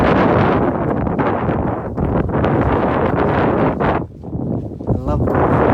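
A strong west wind roars across the open South Downs in East Sussex, buffeting the microphone in loud, continuous gusts with brief dips.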